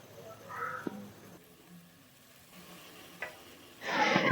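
Four chopped tomatoes tipped into a hot pan, sizzling and frying with a faint crackle, brief stirring clinks, then a louder burst of sizzle as they hit the oil near the end.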